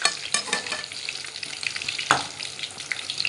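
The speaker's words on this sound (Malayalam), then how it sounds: "നമ്മുടെ എണ്ണ ഇവിടെ തിളച്ചുകൊണ്ടിരിക്കുകയാണ്" Ripe jackfruit appam frying in boiling oil, a dense close sizzle with bubbling crackle and occasional sharp pops and spatters, steady throughout with no voices.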